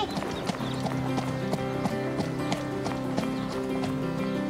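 A cartoon horse canters in a competition riding scene, its hooves clip-clopping in a steady, even rhythm, close and clear over a continuous tonal background.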